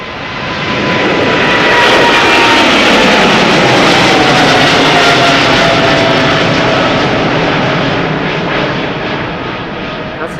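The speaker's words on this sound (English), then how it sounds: "That's, of course, Emirates Sky Cargo going to Madrid." An Emirates SkyCargo jet freighter departs Schiphol's Polderbaan for Madrid, its engines building to a loud, steady roar that holds for several seconds before slowly easing away.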